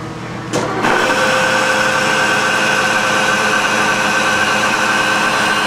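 A Kearney & Trecker K&T 205-S-12 vertical milling machine starts up and runs at about 638 RPM, giving a loud steady mechanical whir with a constant tonal hum that holds evenly after the switch-on.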